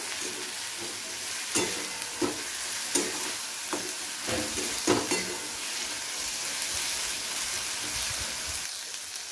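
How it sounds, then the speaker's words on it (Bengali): Onions and spices frying in a pan for a Bengali aar fish kalia, a steady oily sizzle with occasional sharp stirring scrapes and clicks of the spatula, close and moderately loud, no voices. "পেঁয়াজের সাথে এই মশলাগুলোকে খুব ভালো করে ভেজে নেব"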